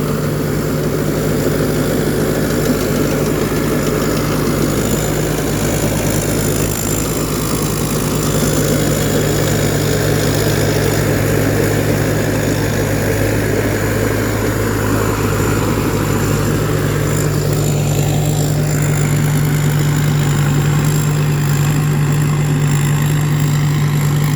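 A stock tractor engine in its second year drones at idle throughout, a constant low hum with an even mechanical rumble and no voices.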